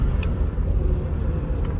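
A 1965 Corvette with a stock 327 engine rolls along in second gear, giving a low, quiet, steady engine rumble close by with little exhaust noise.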